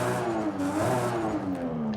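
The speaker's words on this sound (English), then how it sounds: "So here is the street exhaust" A Toyota Soarer fitted with a street exhaust in Forza Horizon 5 revs continuously, its engine note swelling and easing in pitch over two seconds, loud and close with no talking.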